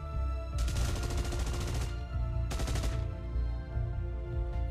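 Gunfire sound effect in a tabletop role-playing game cutscene: two loud bursts of rapid automatic fire, about a second and a half and half a second long, over a steady low rumble.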